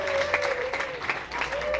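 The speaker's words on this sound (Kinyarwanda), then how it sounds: "nyamuneka amashyi yumvikane, amashyi yumvikane dushimire" Wedding guests clap together in a brief burst of crowd applause, with a sustained musical tone running underneath.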